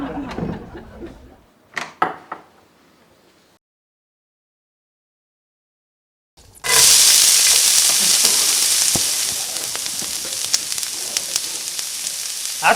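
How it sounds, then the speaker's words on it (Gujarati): Tempering (vaghar) sizzles loudly in hot oil after a few faint knocks and a short silence, a bright sustained hiss that starts abruptly and holds steady to the end. "અલ્યા વઘાર તો હું કરું છું"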